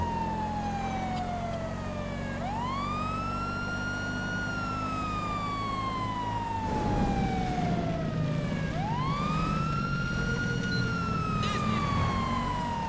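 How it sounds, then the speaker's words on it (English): A wailing police siren from a state trooper patrol car in the video game GTA V sweeps up and down in long, repeating cycles over a steady engine rumble, loud and close. "let's put the siren back on"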